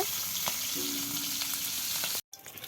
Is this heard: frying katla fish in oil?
yes